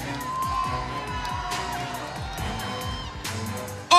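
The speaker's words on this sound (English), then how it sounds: "A huge reaction from the crowd there." At the Miss Earth 2015 coronation night, a large audience cheers and shouts continuously, a dense roar of voices with whoops rising over it and a sudden loud burst at the end.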